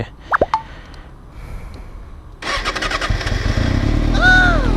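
A Kawasaki ZX6R 636 motorcycle with a Yoshimura exhaust catches after a few sharp pops, then settles into a steady, close idle with a faint whine rising over it.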